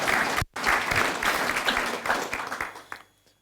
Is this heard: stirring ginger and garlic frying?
no